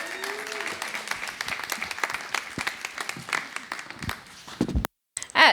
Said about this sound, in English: Should we give her a cheer?